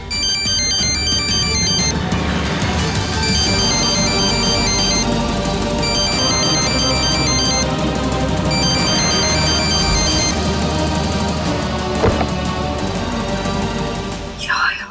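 A mobile phone ringtone plays as a loud, repeating electronic melody that runs almost the whole length with steady rhythm, ending with a brief clatter.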